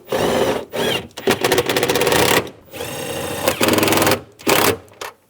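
A power tool runs loud and close in several bursts, tightening the two nuts on a 2004-2009 Toyota Prius tail light, each buzzing whir stopping abruptly between runs.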